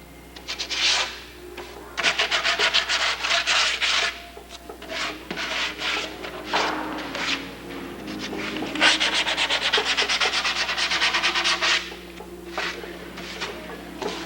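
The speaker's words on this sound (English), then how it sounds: "I'll take a small piece of sandpaper, sand my flanges off if there's any showing." Steady back-and-forth rasping of a small piece of sandpaper sanding down flanges on a mule deer shoulder taxidermy mannequin, close and continuous in repeated bursts with brief pauses.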